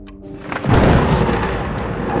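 Deep thunder rumble following a green lightning strike at the base of Carillon Tower, starting low, then swelling into a loud, broad roar that sustains and slowly rolls on.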